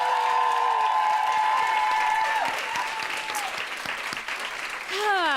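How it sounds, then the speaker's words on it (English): Live audience applause at a podcast taping, steady dense clapping throughout with some cheering and whoops, fading slightly then swelling again near the end. "give him a proper second round of applause"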